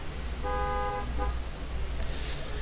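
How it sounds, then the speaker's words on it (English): A neighbor's car horn honks next door, two short toots in quick succession, slightly distant, over a steady low room hum with no talking. "somebody next door is honking."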